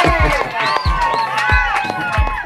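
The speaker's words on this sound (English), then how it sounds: "Clap for Jesus." A church congregation at a wedding celebrating a newly married couple, with loud cheering, whooping and sung or shouted voices over rhythmic low thumps and scattered claps, lively and close.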